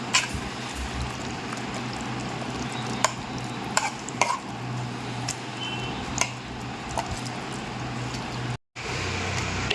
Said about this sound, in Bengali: এখানে চিকেন চাপের জন্য চিকেনটাকে ফ্রাই করে নেওয়া হচ্ছে